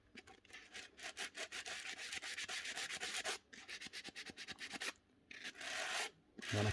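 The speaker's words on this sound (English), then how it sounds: "a bit of wet and dry on something solid. And literally just a little rub, very lightly" Wet and dry sandpaper rasps as a nail gun part from a Paslode IM350+ is rubbed lightly over it on a solid surface, in quick, close back-and-forth strokes with a few short pauses.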